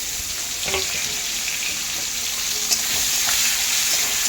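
Steady sizzling of onions and tomatoes frying in hot oil, a continuous crackling hiss with occasional faint clinks, close and fairly loud, no talking.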